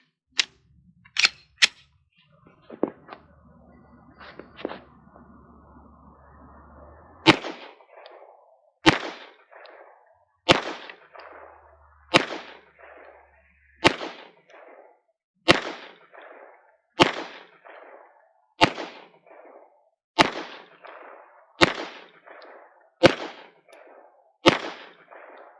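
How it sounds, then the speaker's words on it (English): A pistol fires at a target about 10 yards away: a few scattered early shots, then a long string of loud, sharp reports spaced evenly about a second and a half apart, each with a brief echo. "We're going to fire off the rest of the rounds in the mag that we used to sight it in."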